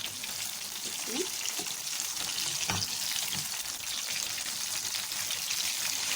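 Eggplant slices fry in hot oil with a steady, loud sizzle and crackle throughout, broken by a few soft clinks and scrapes as pieces are turned over in the pan.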